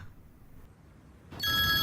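A telephone starts ringing abruptly after a quiet moment, its bright electronic tone sounding steady and fairly loud in an indoor room.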